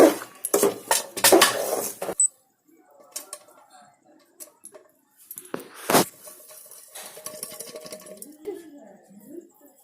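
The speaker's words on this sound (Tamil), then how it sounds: "ஸ்டவ் ஆஃப் பண்ணிவிட்டு நல்லா கிளறிக்கலாம்." A utensil clatters against a pan as roasted coconut and cardamom powder are stirred off the heat, with loud scraping bursts at first, then quieter irregular scrapes and clinks under faint voice-like sounds.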